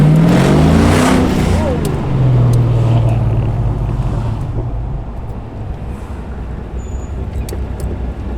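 A 1976 Holden Torana LX SLR 5000 V8 muscle car revs loudly up close, its deep roar surging and then settling into a rumbling, throaty engine note.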